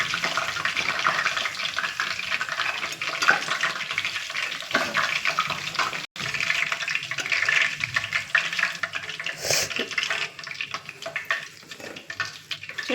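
Chicken pakoda sizzling as it fries in hot oil, a steady loud crackle and hiss running throughout with brief dips, no talking.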